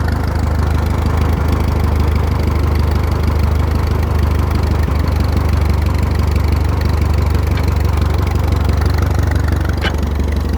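An old tractor engine idles steadily and loudly up close, a continuous low chugging rumble that never lets up.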